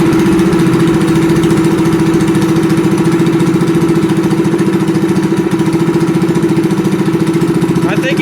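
Shifter kart engine running steadily, a loud, close, continuous buzzing drone with a fast regular pulse and no breaks.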